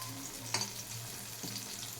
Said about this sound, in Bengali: আমি এই তেলের মধ্যেই এই ঘুষো চিংড়ির বড়াগুলোকে করে নিচ্ছি।